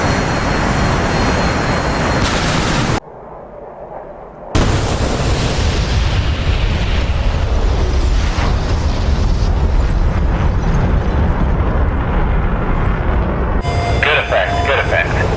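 Heavy weapon explosions destroy a tracking radar site in the DCS World flight combat game, during a 1962 Cuban Missile Crisis strike on a SAM network. Loud sustained roaring blasts fill the clip, briefly cut off, then continue amid jet rumble.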